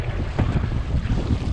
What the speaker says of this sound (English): this wind is a dream. It's literally blowing straight on my back